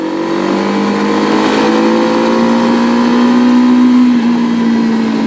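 A Mondial RX3S Evo motorcycle engine accelerating smoothly, a steady loud drone slowly rising in pitch with no jerks, heard close and alone.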